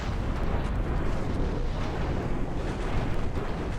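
Warship guns firing in the naval video game Ultimate Admiral Dreadnoughts: a continuous, dense, rumbling barrage of heavy booms and blasts with no clear gaps, loud and steady throughout.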